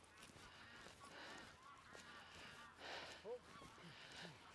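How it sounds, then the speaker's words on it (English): Low-flying geese honk repeatedly overhead in soft, uneven calls, fairly faint against a quiet outdoor background near big trees. "Low flying geese."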